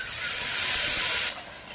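Masala spices hit a hot pan with fried onions for a Bengali chicken dish, giving a loud, close, steady hiss and sizzle that drops suddenly in level near the end.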